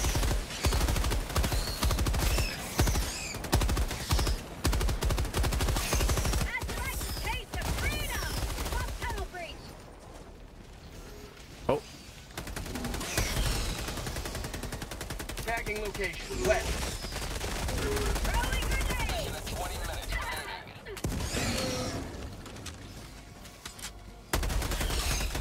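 Weapon fire in the video game Helldivers 2, sustained dense bursts of gunfire and blasts running almost without pause, with voices talking over the clamor.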